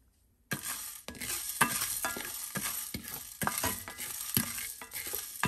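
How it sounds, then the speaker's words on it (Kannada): Cumin seeds, cinnamon and cloves dry-roast in a pan while being stirred, with a soft continuous sizzle broken by repeated scraping strokes of a spoon, close up and with no voices. "ಸೊ ಜೀರಿಗೆ ಆಮೇಲೆ ಚಕ್ಕೆ, ಲವಂಗ, ಸೊ ಇದೆಲ್ಲ ಒಟ್ಟಿಗೆ ಹಾಕ್ಕೊಂಡು ಹುರ್ಕೊಳ್ಳೋಣ."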